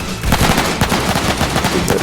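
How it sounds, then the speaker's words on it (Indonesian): Rapid gunfire from a Roblox shooting game, loud continuous bursts of shots with a dense machine-gun rattle, no voices. "Menembak musuh mati."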